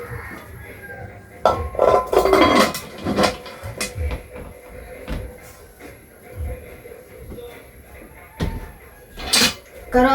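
A wok and a cooking pot being handled, with clanks, knocks and metallic clinks arriving in bursts at close range while a person talks throughout.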